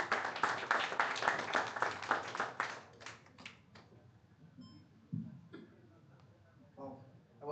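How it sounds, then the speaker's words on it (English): Audience applause at an IT industry conference, a burst of dense hand clapping that fades after about three seconds, leaving scattered claps, faint room noise and brief speech. "A round of applause, please."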